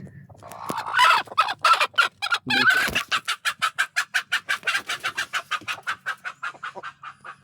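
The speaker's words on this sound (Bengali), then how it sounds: "দুটো মোরগ আছে, একটা মুরগি।" Two roosters and a hen are heard close by, with a few loud calls followed by a rapid, evenly pulsed run of clucks.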